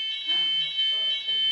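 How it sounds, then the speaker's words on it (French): An alarm goes off during a live stream, a steady high-pitched electronic beeping tone that continues without a break, with people talking quietly beneath it. "Ça a tout l'air d'une alarme."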